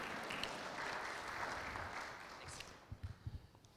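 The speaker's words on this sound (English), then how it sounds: "Anybody can clap anytime." A lecture-hall audience at a university faith lecture series claps softly and steadily; the faint applause thins out toward the end, leaving a few scattered claps.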